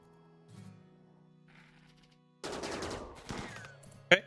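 Video game gunfire aimed at a porcupine in a colony-building game: a dense burst of shots begins partway through, then comes a second cluster and a final sharp crack. Quiet game tones play before it.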